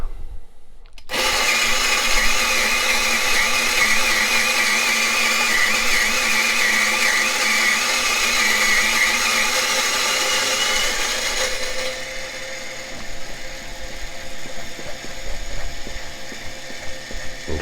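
A Turin SD40 coffee grinder grinds beans in a steady, loud whirring drone with a fine gritty rattle, running for about eleven seconds before the pitch drops and the motor winds down with residual clatter.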